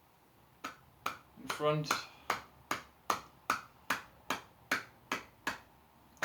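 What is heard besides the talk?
hands clapping during qigong exercise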